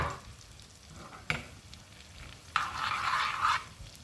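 Butter melting in a pot on the stove for a mint soup makes a quiet, steady sizzle, with a sharp knock partway through and a brighter, louder burst of frying near the end.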